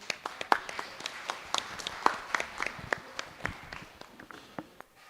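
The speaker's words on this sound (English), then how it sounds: "Help us in welcoming sir with a big round of applause." Sparse, distinct claps from a small audience welcome a speaker at a science communication conference, individual hand claps scattered irregularly and fading out over about five seconds, fairly faint.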